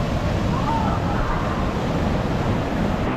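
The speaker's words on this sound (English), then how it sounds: "the waves are just too strong for a calm swim" Strong ocean surf churns in a cove at La Jolla, San Diego: a continuous, loud wash of breaking waves with no distinct pauses, heard up close.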